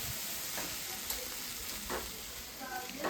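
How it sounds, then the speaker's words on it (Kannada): Coriander leaves and mint fry in a pan with a continuous close sizzle, punctuated by a few brief stirring scrapes over a short stretch. "ಈ ಕೊತ್ತಂಬರಿ ಸೊಪ್ಪು ಪುದೀನ ಹಾಕಿದ ಮೇಲೆ ಜಾಸ್ತಿಯನ್ನು ಫ್ರೈ ಮಾಡ್ಕೋಬೇಡಿ, ಒಂದು ಸ್ವಲ್ಪ ಫ್ರೈ ಮಾಡಿದರೆ ಸಾಕಾಗುತ್ತೆ"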